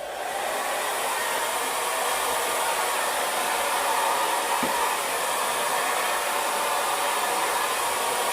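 A Chi Dura Handshot hair dryer, a handleless model, blows with a steady, loud whooshing roar throughout, its airflow constant and unbroken from start to finish.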